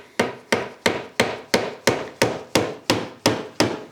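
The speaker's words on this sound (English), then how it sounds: "Then we're gonna drive those dowels right into there." Wooden dowels are hammered into a glued wood edge with about ten sharp, evenly spaced knocks at a quick steady rhythm, close and loud with no talking.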